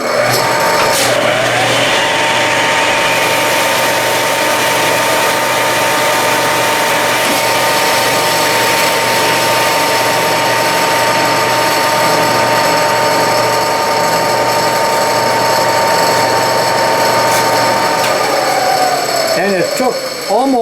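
A Clausing lathe with a heavy 35 to 40 pound chuck runs at a steady loud whine and hum, then winds down and coasts to a stop near the end.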